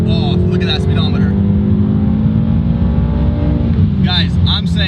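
A BMW M6 Competition with a 600 hp engine pulls hard at full throttle, its engine note rising steadily in pitch, loud and close from inside the cabin, with brief squeaks and rattles.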